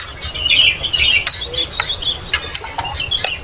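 A bird calls outdoors at a motorcycle campsite, giving a few short, bright chirps and trills over soft background hiss and insect-like buzzing, with no voices.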